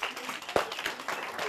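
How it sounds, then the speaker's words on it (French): Children at an outdoor gathering clap together, their applause loose and uneven with separate sharp slaps standing out, and one loud crack near the middle. "On applaudit."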